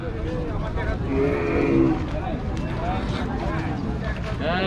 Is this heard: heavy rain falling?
no